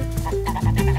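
Chickens just let out of their coop cluck and squawk in a short, close burst, several birds overlapping in quick bleating-like calls.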